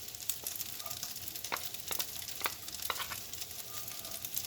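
Garlic sizzles in oil in a pan, a steady close crackling fry with small pops throughout, no talking.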